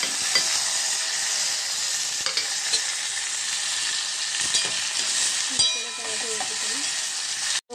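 Tempering of coriander and curry leaves sizzles steadily in a pan, a loud, continuous frying hiss with faint stirring clinks near the end.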